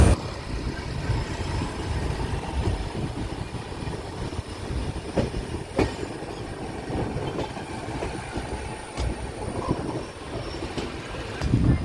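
The Gomteshwara Express rolls along from Yesvantpur toward Mangaluru, a steady loud rumble of wheels and carriages with recurring clicks over rail joints and faint squeals, heard from on board.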